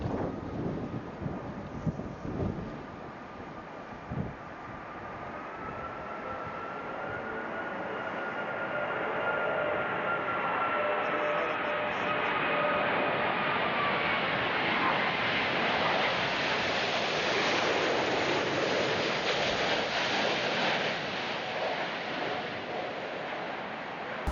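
Strong storm wind roars and gusts at an airport in England, with a steady rising whine of a landing aircraft engine passing through the gale; continuous broadband rush, no talk.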